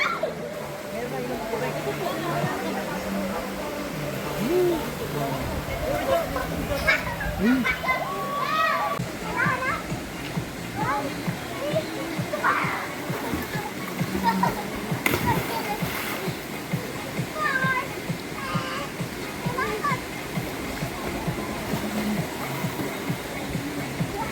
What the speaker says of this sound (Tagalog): Daming naliligo.